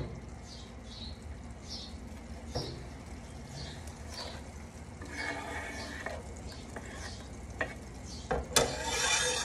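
Vegetables go into a hot pan with melted fat, chile and garlic for squash spaghetti, sizzling softly while a utensil scrapes and stirs, with intermittent louder scrapes near the end.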